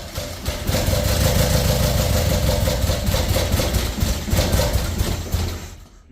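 A Nissan 240SX engine with bad injectors idles roughly up close, a loud, uneven, lumpy throb with a misfiring rhythm that fades slightly near the end.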